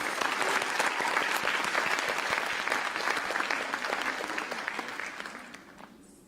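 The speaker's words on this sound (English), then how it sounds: "Special round of applause for them." Audience applause after a Bharatanatyam arangetram dance debut: a dense, sustained round of clapping from a large crowd that holds steady, then fades away over the last second.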